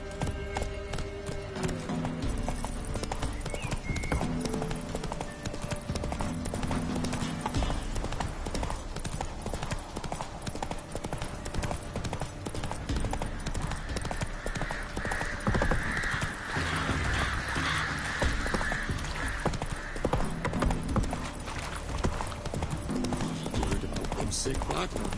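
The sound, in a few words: horse galloping in video game The Witcher 3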